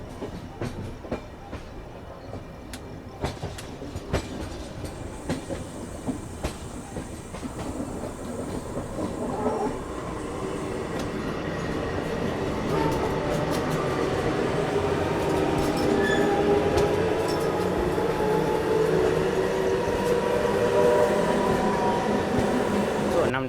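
Kolkata–Radhikapur Express rolls along the rails, heard from inside the train as a steady rumble that builds louder partway through, with faint rhythmic clicks over the joints and no talk.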